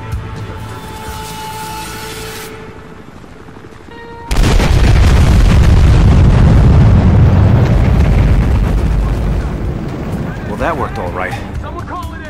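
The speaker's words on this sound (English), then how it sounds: "Watch for secondary explosions!" Explosions erupt in the Battlefield Hardline video game, a meth lab blowing up: a sudden loud booming blast after a quieter stretch, followed by a sustained roaring, rumbling wash of fire and debris that slowly fades, with crackling bursts near the end.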